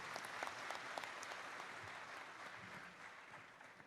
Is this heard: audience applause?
yes